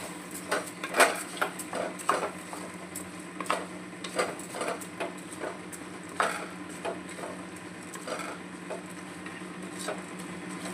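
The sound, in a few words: stirring rice and vegetables together in a pot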